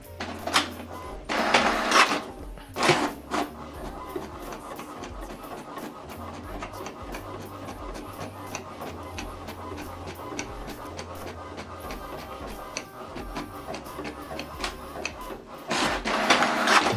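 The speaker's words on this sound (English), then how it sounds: "Now this document is printing." An HP Deskjet 3700 inkjet printer prints a document with mechanical whirring and rhythmic carriage clatter for about seventeen seconds, with louder feed noises near the start and the end.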